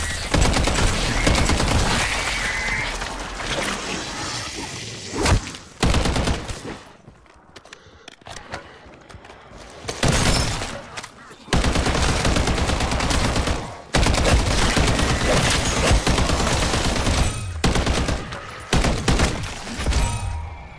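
Sustained, loud bursts of gunfire in MW3 Zombies, dense overlapping shots and explosions that run for long stretches and are broken by short quieter pauses.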